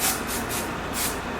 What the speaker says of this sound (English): I'm using the Ebon Tinted Lace Spray in the shade medium dark brown, and just doing like a light coat on this